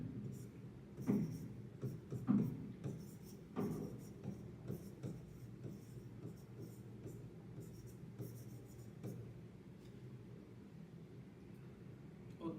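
During a maths lesson, a pen or marker writes on a board in close, scratchy strokes with short pauses, louder taps early on and softer rubbing later.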